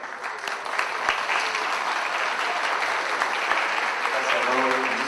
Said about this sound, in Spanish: vamos a recibir al doctor Pablo Bianchi con un fuerte aplauso.